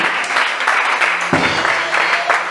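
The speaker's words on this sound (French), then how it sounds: "Acclamez très fort Jésus." Steady applause fills the whole stretch, a dense church congregation clapping with swells of cheering rising over it.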